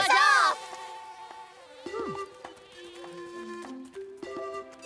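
Cartoon insects buzz in a kids' animated show about kittens, with thin, wavering whines in the foreground alongside bright tonal music and effects, fairly quiet overall.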